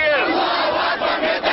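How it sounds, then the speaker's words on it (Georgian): Protesters chant and shout anti-American slogans outside a hotel in Cairo, a dense crowd roar that stays loud and continuous throughout with no pauses. "ანტიამერიკული შეძახილები ისმოდა ქაიროში იმ სასტუმროსთან, სადაც ჰილარი კლინტონი დაბინავდა"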